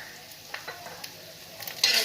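Spices including coriander, black pepper and chilli powder being stirred into hot oil for a bhetki fish curry, a soft steady sizzle with a few light scrapes and a louder burst of frying near the end.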